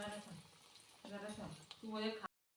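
Spoonfuls of mung dal bhaji batter dropped into hot oil, a close, crackling sizzle with bubbly bursts that swell and fade, faint voices underneath.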